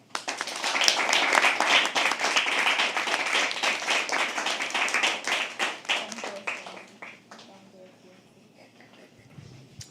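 An audience at a live poetry open mic claps steadily for several seconds, dense and close, before the applause thins out and fades away.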